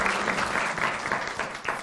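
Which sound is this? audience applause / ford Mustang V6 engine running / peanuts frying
audience applause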